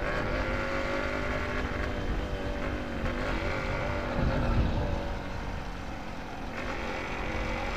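A Yamaha RX 100 two-stroke motorcycle engine drones loudly and continuously with a buzzing, high-revving tone, swelling slightly midway before settling back to an even run.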